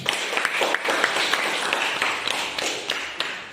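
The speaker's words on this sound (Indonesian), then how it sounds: "Tepuk tangan dulu" A classroom of students claps for a group presentation on a persuasive speech, with steady, moderately loud applause made of many sharp, overlapping hand claps that carry on for the whole stretch.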